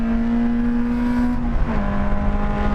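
Hot hatch powering around the Nürburgring, a loud, steady engine drone with a sharp pitch drop at an upshift midway, then pulling on at a slightly lower note.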